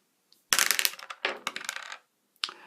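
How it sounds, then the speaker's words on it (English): A six-sided die is rolled for a Gettysburg wargame. It clatters and tumbles across a hard surface for over a second, and a small final tap follows. "Roll a dice."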